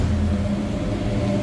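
A 1972 Chevrolet K20 Cheyenne big block V8 with true dual exhaust and an X-pipe idles fast just after a cold start, giving a steady, deep, close rumble.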